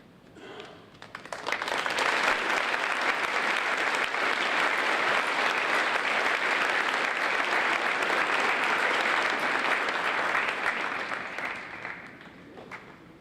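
An indoor audience at a Veterans Day program breaks into applause that swells within a second or two, holds steady and full for about ten seconds, then tapers off.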